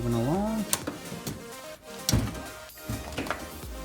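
A Matco two-bank tool box drawer slides open with metallic rattles and clunks, while a person talks.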